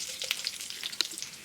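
Garlic, dry red chillies and curry leaves crackle in hot oil for a tempering, a faint hiss dotted with small sharp pops and spits.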